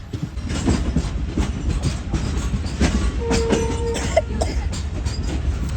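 Awam Express passenger train rolling slowly over a diamond crossing near Rohri Junction, giving a steady close rumble with rhythmic wheel clatter and brief squealing tones midway, with no talk.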